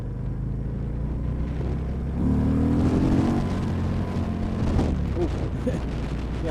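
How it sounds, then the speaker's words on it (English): Harley-Davidson Road King motorcycle engine running steadily and close, rising into a rev partway through before settling back to a rumbling idle. "if you full rev it, it does cut out a little bit"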